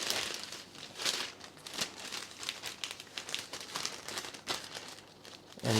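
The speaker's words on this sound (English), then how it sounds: "now we're just going to fold this in half, just like that, and we'll fold it in half again" Baking paper is folded and creased into a cone, giving soft, close crinkles and crackles in irregular bursts with no talk.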